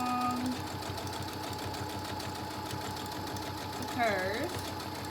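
A sewing machine stitches a seam along a fabric face mask with a fast, steady mechanical whirr, while a person speaks over it.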